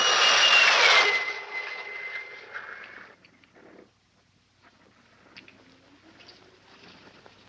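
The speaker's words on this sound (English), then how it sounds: "even to the piercing eye of radar and the speeding jet fighters" Jet fighter aircraft passing overhead, a loud roaring rush that fades away over a few seconds, leaving faint distant rumbling and small scattered noises.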